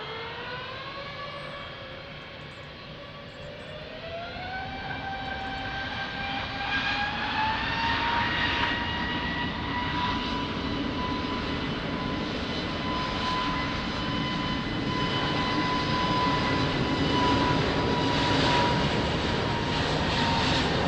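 An airliner taking off at Lisbon Airport, its engines spooling up from a low whine to a loud, steady roar with a rising tone heard from a distance, sustained throughout.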